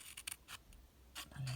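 Scissors snipping card for a rubbing, a few quick faint cuts close by, one louder snip near the end.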